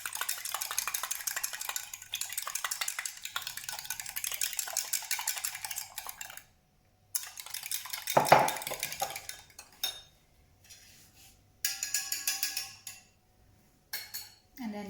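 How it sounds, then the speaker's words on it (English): A fork whisks granulated sugar mixture in a bowl for bread and butter pudding, making rapid metallic clinking and scraping in bursts with brief pauses between them. "we're just going to whisk that up with a fork"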